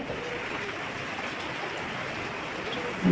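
Heavy rain pours down in a constant, even roar with no pauses or other sounds standing out.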